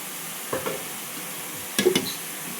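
Two short bursts of crackling sizzle from sesame seeds frying in a hot pan, with stirring scrapes between them against a steady low hiss.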